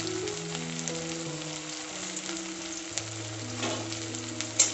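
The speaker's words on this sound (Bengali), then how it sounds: "এবার এগুলোকে একটু ফ্রাই করে দেবো।" Onion, ginger and garlic frying in a pan, a steady close sizzle with soft crackles and a brief stir near the end, with no talking.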